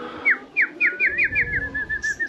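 A racing pigeon at a loft gives a series of about eight short, rhythmic whistling calls that start clear and loud, then trail off into a fainter warble, with no talk.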